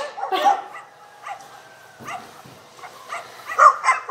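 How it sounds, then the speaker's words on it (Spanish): Several dogs bark and yip outdoors during a fight, sharp bursts with whimpering in between, fairly close and loud with quiet gaps. "Son unos perros que están peleando afuera."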